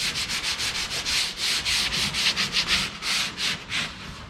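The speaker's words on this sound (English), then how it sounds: "I'm still sanding it a little bit rougher" Rhythmic back-and-forth strokes of sandpaper rubbing across a carved piece, a dozen or so close, raspy hisses at an even pace with no talking.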